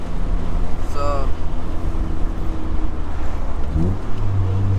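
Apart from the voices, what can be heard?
wind noise on the microphone while driving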